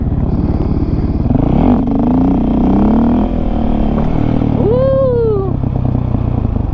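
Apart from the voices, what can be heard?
dirt bike engine revving through gear shifts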